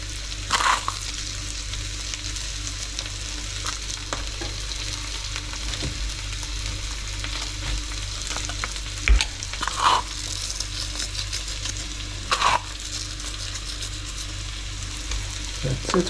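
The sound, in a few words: salted steak frying in a pan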